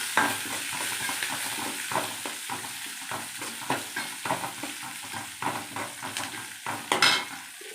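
Cumin seeds sizzle and crackle in hot oil for a curd rice tempering, a steady close frying hiss broken by repeated scraping stir strokes, with no voices.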